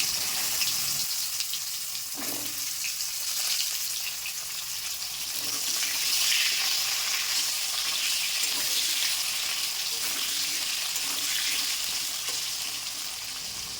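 Cumin seeds, bay leaf and cut potatoes fry in oil left over from frying fish, for a raw pumpkin curry: a steady, bright sizzle that swells and eases as the pieces are stirred, with no talking.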